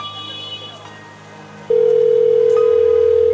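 Partway through, a steady, loud telephone tone switches on and holds unbroken while calling, after a stretch of quiet room noise and faint phone handling.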